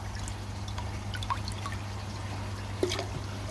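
Dirty water from a koi pond filter trickles and pours into a glass, a continuous close splashing dribble with small drips over a steady low pump hum, no talk.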